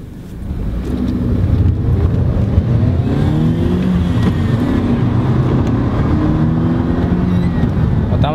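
Engine of a BMW 320i E92 pulling steadily during a test drive, a continuous loud drone with rising harmonic tones as it accelerates and revs, heard from inside the car with no talk.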